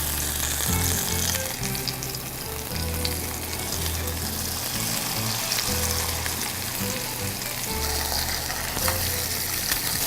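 Flounder frying in hot oil in a pan, a steady loud sizzle with crackling that runs through the whole stretch, no one speaking.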